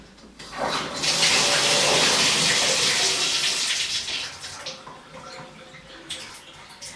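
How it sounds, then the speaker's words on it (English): Steady rushing water pours from a shower turned to full hot for several seconds, then tapers off to a thinner, uneven trickle. "We're going to turn our water in our shower upstairs all the way to nuclear hot water"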